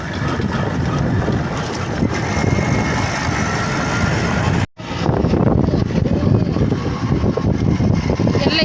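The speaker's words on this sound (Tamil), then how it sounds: "வண்டி ஓட்டுறது பார்த்துக்குங்க" A vehicle engine runs as it drives off, a steady rumbling roar with heavy wind buffeting on the microphone and a brief dropout midway, continuing close and loud throughout.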